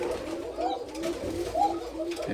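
White koka pigeons in a coop where pairs sit on eggs, with soft, repeated cooing calls near the mic over steady low background noise.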